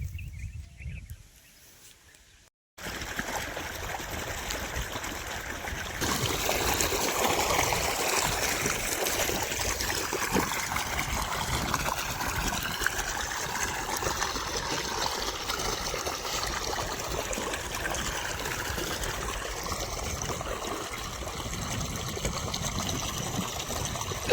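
Irrigation water runs steadily through field channels on a farm where cumin is being sown, a continuous close trickling rush that starts after a brief quiet moment and carries on alone without talk.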